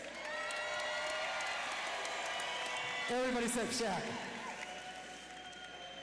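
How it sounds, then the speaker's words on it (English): A crowd at an MMA event in Fairbanks applauds and cheers throughout, with a voice speaking over the noise partway through. "give yourselves a big round of applause"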